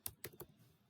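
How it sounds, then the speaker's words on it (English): Three quick, faint clicks of keys being pressed on a sticky computer keyboard, spaced evenly in under half a second, then quiet. "Keyboard's a little sticky there."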